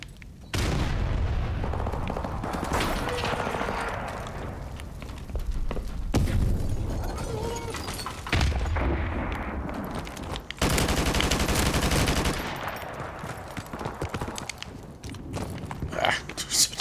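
Multiplayer gunfire in Call of Duty: Infinite Warfare, with loud sustained automatic bursts and booming shots broken by short pauses, mixed with footsteps and game action, and people talking over parts of it.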